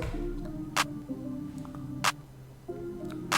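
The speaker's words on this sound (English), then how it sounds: "The snare sounds like this." Sharp snare cracks land every second or so over a low sustained backing tone, each hit short and bright.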